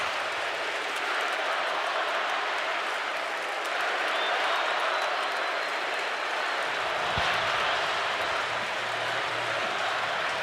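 An Auburn football crowd roars behind the bench at a game against Vanderbilt, a dense, continuous wash of cheering and noise that swells slightly midway and holds throughout.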